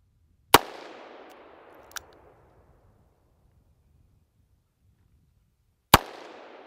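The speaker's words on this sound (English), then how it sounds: "that bullet hitting the steel is like instantaneously the same time as I pull the trigger" Two sharp, loud cracks from a Ruger Super Redhawk revolver chambered in 22 Hornet fire about five seconds apart outdoors, each trailing off in a long echoing decay, with a fainter metallic clang of a bullet striking steel just after the first shot.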